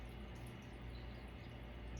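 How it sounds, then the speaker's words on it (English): Clean water is poured gently into a small fish tank, giving a steady, soft, continuous splashing trickle up close with no pauses and no speech. "I just pour it in gently."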